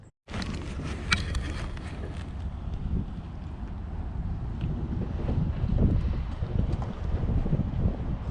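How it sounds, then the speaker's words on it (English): Strong wind of about 20 miles an hour blowing across Lake Lanier in winter, a heavy continuous roar buffeting the microphone close up after a brief quiet opening, with no voices. "the wind is blowing literally, it's probably 20 miles an hour right now"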